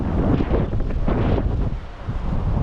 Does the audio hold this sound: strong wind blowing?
yes